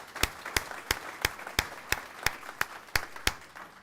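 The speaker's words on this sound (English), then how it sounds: "big round of applause for Joanne" Steady, evenly spaced claps at a church congregational meeting, about ten sharp hand claps in a regular rhythm, close and moderately loud, with no talking.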